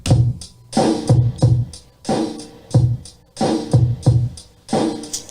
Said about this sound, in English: Here's the SP beat. Play a beat.